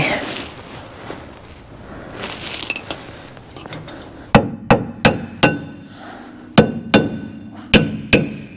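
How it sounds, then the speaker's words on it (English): Sharp metallic hammer blows on an abandoned 1961 Ford Falcon ring out one after another, about eight strikes in an uneven rhythm, loud and close, after a stretch of quieter clattering. "Hammer."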